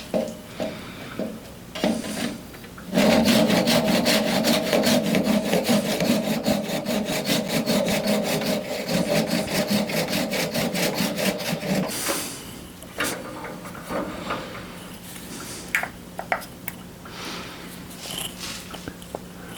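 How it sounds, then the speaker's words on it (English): A hand saw rasps through a turned wood blank with fast, even back-and-forth strokes for about nine seconds, close and loud, followed by scattered handling knocks and quieter rubbing. "I'm just going to grab a saw and cut that off"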